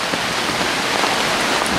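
Steady, moderate rain falls outdoors around poles standing mostly clear of water, a continuous even hiss of drops with no pauses or louder bursts.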